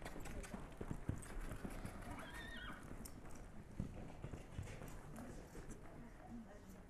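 Hooves of gaited horses moving after cattle, a steady clip-clop under wind noise with a brief whinny partway through, while a person talks throughout.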